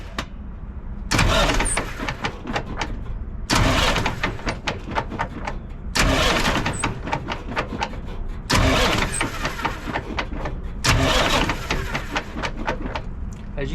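A car engine cranks in four separate bursts as the starter is bumped with a jumper wire, the transmission out of gear, each burst a rapid mechanical chugging lasting about two seconds, loud and close, with short pauses between.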